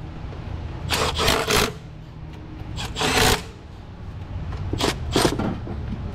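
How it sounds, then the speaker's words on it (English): An impact wrench on a Toyota 3.3 V6 AWD, spinning freely with no socket on the bolt, sounds in several short bursts of high whirring and rattling, separated by quieter garage background. "I was trying to impact the bolt and I didn't have the socket on the bolt"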